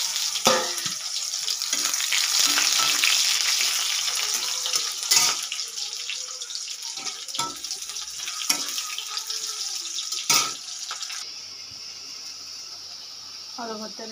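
Dried chilli, cumin, mustard seeds and onion frying in hot oil, a crackling sizzle with sharp pops and clatters from stirring, moderately close, while someone speaks over it before the sizzle thins out near the end.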